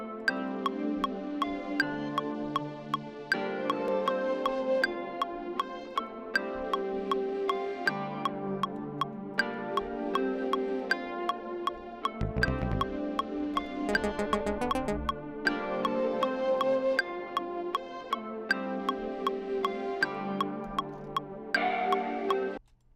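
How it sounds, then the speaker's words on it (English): Trap melody loop from the Tokyo Nights loop kit at 158 BPM, a bright repeating melodic phrase cycling steadily through the whole stretch at constant loudness, with a brief low thump near the middle, and no talk over it. "Okay, so let's bring in a melody."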